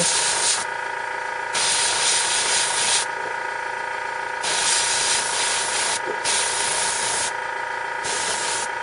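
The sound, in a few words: spray primer painting a miniature slate base rim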